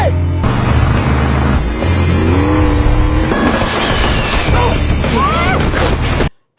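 A film car chase plays as loud, dense action audio: roaring engines and screeching tires mix with crashes, thuds and bursts of gunfire. Voices can be heard over the chaos before it cuts to silence at the end.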